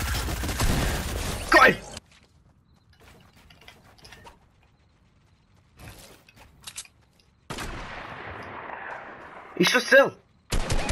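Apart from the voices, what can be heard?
gunfire in the video game Fortnite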